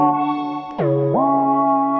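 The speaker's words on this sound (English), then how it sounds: "So you hear the delay." A u-he Satin synth preset plays a sustained tone through a delay effect, with the pitch dropping and rising again midway, repeating echoes trailing the notes, clean and alone without talk.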